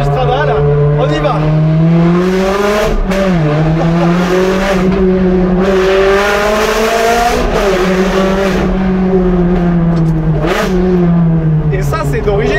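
A Ferrari 360 Challenge Stradale pulls away, its engine loud and close with rising and falling revs through several gear changes and a brief tire squeal, while someone talks over it.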